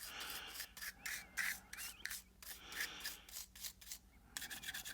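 A toothbrush scrubs grime off a Sig P365 pistol in quick, close bursts of bristly rubbing, repeated in an uneven rhythm with short pauses between strokes.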